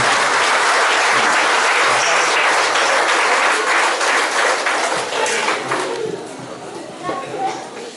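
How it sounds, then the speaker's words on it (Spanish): Church congregation applauding steadily, loud and dense clapping that fills the space and tapers slightly toward the end. "Dale un aplauso ahí a quien está hablando."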